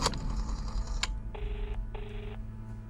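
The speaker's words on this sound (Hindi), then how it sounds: "शाहिद तुम अपने प्रोफेशनल किलर को फोन लगाओ" A telephone being dialed in a dubbed Hindi cartoon: a couple of sharp clicks followed by two distinct dial tones, each lasting about half a second with a short gap between them, close and clear with no talking.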